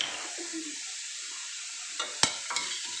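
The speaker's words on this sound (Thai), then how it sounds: "ย่าผัดหมูให้สุกก็ใส่พริกลงไปพริกจะได้สุก" Pork and chilies stir-fried in a pan, a soft steady sizzle with a few sharp metallic scrapes and clinks of the utensil near the end, no talking.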